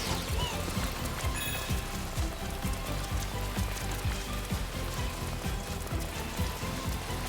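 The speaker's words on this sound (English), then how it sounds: "it sounds like actual rain hitting a plastic umbrella" Rain patters on a plastic umbrella in Astro's Playroom, played through the PS5 controller speaker: a dense, steady pattering of many small drops, continuous and fairly close, with no voices.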